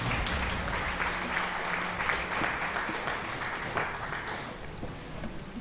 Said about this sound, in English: Gave you a round of applause, Rich.